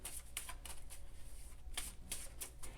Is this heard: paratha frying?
no